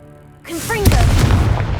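A Confringo spell explosion in the Hogwarts Legacy video game: a quick whooshing cast followed by a loud, booming burst with a rumbling tail, heard alone.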